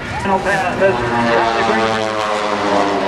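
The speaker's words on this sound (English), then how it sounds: "This is called the torque roll, the Charlie Hillard torque roll" At a 1986 Daytona Beach airshow, an aerobatic propeller airplane performs a torque roll, its engine droning steadily and loudly throughout while an announcer talks over it.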